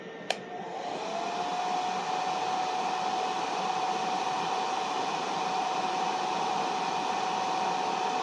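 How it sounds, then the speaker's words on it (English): A hair dryer running on its low setting, powered by an EcoFlow Delta Pro portable power station, switches on with a brief click and settles into a steady, even whooshing hum that continues unbroken. "Now let's turn on the hair dryer on low."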